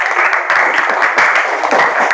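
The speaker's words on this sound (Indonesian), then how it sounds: "Oke, tepuk tangan." A classroom group breaks into lively applause, many hands clapping together in a loud, continuous patter that lasts the full two seconds with no voices over it.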